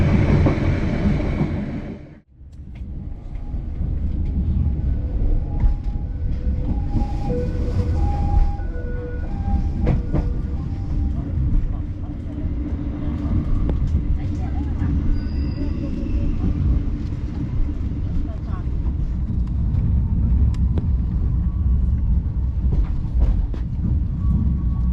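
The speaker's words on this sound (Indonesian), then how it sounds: "Kereta api Bengawan melintas langsung di stasiun Cirebon." Bengawan passenger train running through Cirebon station without stopping, a loud continuous low rumble of rolling wheels and carriages, heard close and steady throughout with faint tonal squeal lines above.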